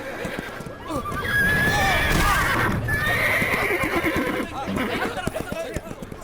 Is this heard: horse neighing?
yes